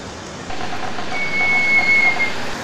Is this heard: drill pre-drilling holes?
no